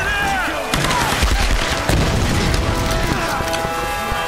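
A grenade goes off in Tomb Raider: Definitive Edition, a deep booming blast amid continuous gunfire and chaotic combat noise, loud and close, with a faint voice in the background.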